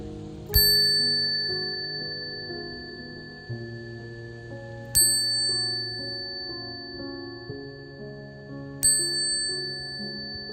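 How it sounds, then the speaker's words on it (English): A sound-therapy bell struck three times at slow, even intervals. Each bright, clear strike rings out and resonates with a long, shimmering decay that overlaps the next, with no voices. "listening to the sound of the bell, and enjoy its resonating clarity"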